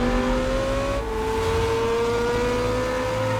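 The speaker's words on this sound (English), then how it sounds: "I just felt like Oliver inside the Ferrari was the right car for him." Ferrari engine revving and driving, a loud steady mechanical drone with a pitch shift about a second in, then a sustained, gradually climbing tone as the car pulls away.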